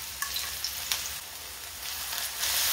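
Chopped onion, grated garlic and ajwain fry in hot oil with a steady, close hiss and crackle. Faint stirring scrapes cut through, and the sizzle swells near the end with no talking.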